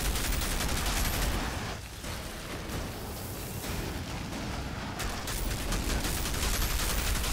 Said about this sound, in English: the retort, the gun I'm using right now